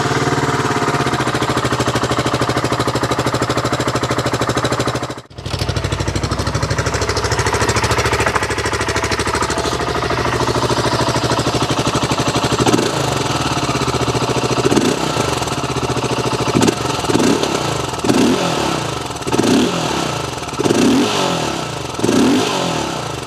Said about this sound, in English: let's start it up and have a listen